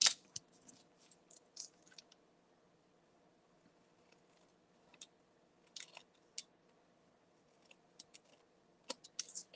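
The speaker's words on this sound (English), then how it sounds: "we're going to flip it over. And we're going to trim all these tails off" Scissors trim paper strip tails off the edge of a cardstock layer, giving scattered soft, crisp snips at an uneven pace in a quiet room.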